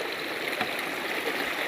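Water of a trail stream along the Pacific Crest Trail flows steadily with a soft, continuous hiss and gentle trickle, close and even throughout.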